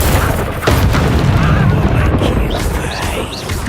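A Confringo fire spell explodes in Hogwarts Legacy with a sharp crash followed by a loud, sustained booming rumble and scattered crackles, fading slightly toward the end amid faint combat grunts.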